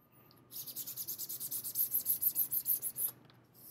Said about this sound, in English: You can hear that. They sound like a zipper. That's the sandpaper hitting the grow lines.